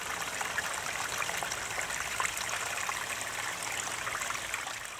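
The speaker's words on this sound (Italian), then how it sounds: "il suono che fa l'acqua in questo flusso è quello che caratterizza il tuo giardino" Water flows over stones in a Japanese garden at Villa Paradeisos in Varese, a steady, close, broadband rush and trickle that continues unbroken without voices.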